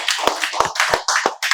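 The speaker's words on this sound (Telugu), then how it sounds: "Very good, claps claps." Children in a spoken English class clap together in a quick burst of sharp, close, uneven claps lasting a moment, with no talking.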